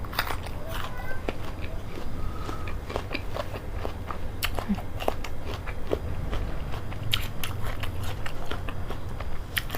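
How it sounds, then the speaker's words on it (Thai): Someone bites into and chews a jumbo chocolate-coated jujube fruit, giving sharp, repeated crunchy clicks and wet chewing noises close to the mic, scattered irregularly over a low background hum. "กัดเข้าไปให้เต็มปากเต็มคำนะ"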